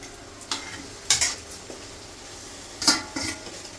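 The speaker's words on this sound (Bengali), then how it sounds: "আলুটা দিয়ে তারপর ভাজবো একসাথে" Potatoes go into a pan of fried spices and are stir-fried together, with a few distinct metal scrapes and clinks of the spatula against the pan over a faint, steady sizzle.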